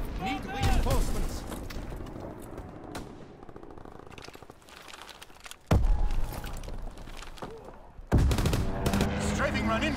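Loud World War II gunfire in the Call of Duty WWII video game: rapid machine-gun bursts and heavy shots that start and stop abruptly, mixed with game voices.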